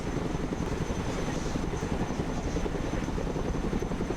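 A helicopter in the Broken Arrow video game gives off a steady, loud rotor drone that fills the whole stretch without letting up.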